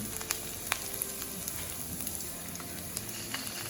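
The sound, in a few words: ginger and garlic sizzling in a hot pan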